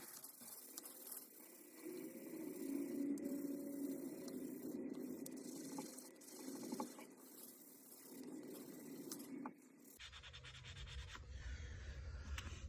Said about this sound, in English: we'll go ahead and continue to sand this down